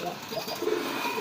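Pigeons coo softly in a pigeon loft, a faint low cooing phrase or two over a steady background hum, with no voices.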